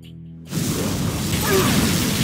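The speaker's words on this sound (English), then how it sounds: "Particle cannon activated." A particle cannon fires in Command & Conquer Generals Zero Hour, a sudden loud booming blast that opens into a sustained roaring, crackling energy wash lasting about two seconds.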